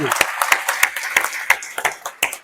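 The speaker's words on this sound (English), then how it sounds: "Another round of applause" A small audience at a lecture on the war on Gaza claps in a sparse, evenly spaced rhythm, about seven distinct claps close by.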